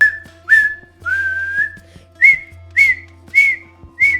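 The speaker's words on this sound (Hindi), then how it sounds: "अगर आप घर के अंदर सीटी बजाते हैं" A person whistles a series of short, clear notes, about seven in an uneven rhythm, each rising slightly in pitch, close and loud, with no talking.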